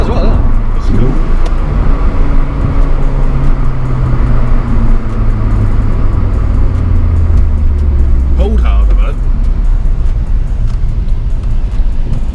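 A Honda Civic Type R FN2 engine runs with its intake air pipe disconnected, a loud, harsh induction roar that rises with revs and then drops away, under people talking nearby.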